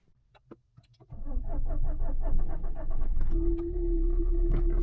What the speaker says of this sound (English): I don't know if that's coming across on camera, but that's a misfire